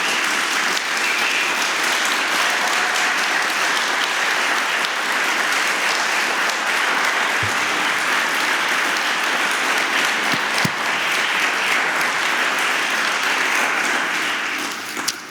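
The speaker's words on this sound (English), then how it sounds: "Please let us all give a great round of applause to Melinda." Sustained audience applause for a moderator at the close of an energy conference, a dense, steady wash of many hands clapping at even loudness for about fifteen seconds before tapering slightly at the end.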